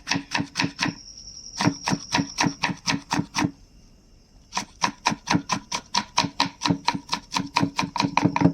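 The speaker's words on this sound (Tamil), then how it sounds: "குடமிளகா பாதி எடுத்து பொடிசாக கட் பண்ணிக்கோங்க." A knife chops capsicum on a board in quick, steady bursts of sharp taps, close and clear, pausing briefly twice before resuming a fast even rhythm.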